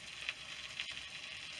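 A steak sizzling on a wood stove inside a cabin, a soft, steady crackling hiss with a few faint pops, brief and fairly quiet.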